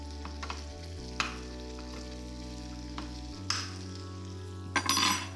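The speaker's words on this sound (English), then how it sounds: "give this a stir." Butter, garlic and bacon sizzle in a frying pan while being stirred, with steady frying hiss, a low background hum and a few sharp utensil scrapes and clinks.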